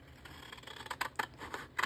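Scissors cut apart folded paper into sections for a handmade sketchbook, producing a series of crisp snipping clicks that quicken toward the end, close and distinct.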